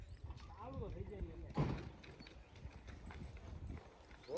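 A mare's hooves clip-clop in a series of uneven steps as she is led down out of a vehicle, fairly close, with voices talking around her.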